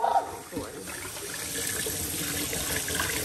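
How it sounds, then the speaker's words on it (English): Tap water runs steadily into a sink as rice is rinsed, a continuous close splashing wash with brief handling clatter at the start and no talking. "this is how I be washing my rice"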